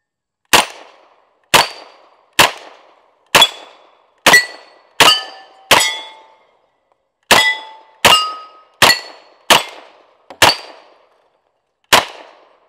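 M1 Thompson submachine gun fired at steel targets outdoors: thirteen sharp single shots at steady roughly one-second intervals, each followed by a ringing metallic clang from the struck steel plate, loud and close with a brief pause mid-string.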